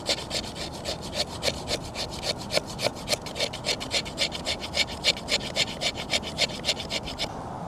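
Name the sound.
knife scraping wood shavings off a piece of wood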